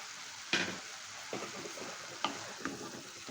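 Boiled pasta is tossed and mixed in a hot pan of coriander sauce. A low sizzle is broken by four or five spatula scrapes and stirring strokes, quiet and close.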